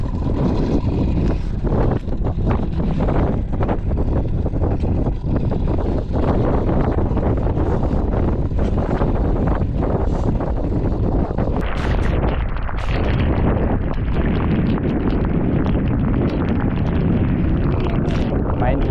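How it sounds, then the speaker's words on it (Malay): Wind buffeting a fishing boat out at sea during a storm, a loud continuous rushing roar battering the microphone, with gusts that intensify near the end. "Angin dia sekejap je lah."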